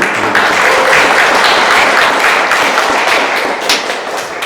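Dense applause from a church congregation during a Sunday service, steady and loud for several seconds before easing slightly at the end.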